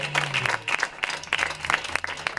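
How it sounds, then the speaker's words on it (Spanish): Audience at a concert giving hearty applause, dense clapping close by, with a low sustained tone running under it. "un gran aplaudiment per a Mr."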